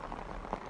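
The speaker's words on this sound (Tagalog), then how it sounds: "Ulan lang kasi maghapon na ulan tapos hanggang gabi" Rain falls steadily as a dense, even hiss of drops during an all-day downpour in Spain, heard briefly and without talk.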